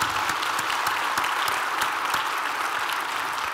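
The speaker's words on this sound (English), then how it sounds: "Give the businesses one more round of applause if you guys don't mind." Sustained audience applause at a community heroes celebration event, a dense steady wash of many hands clapping, fairly loud and close, with no talking over it.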